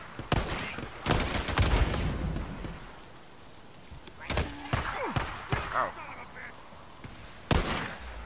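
Gunfire from the Days Gone video game rings out in several sharp bursts scattered across the clip, loud and close, with brief spoken lines in between.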